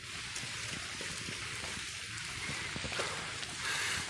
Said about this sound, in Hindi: क्योंकि हल्की हल्की बारिश हो रही है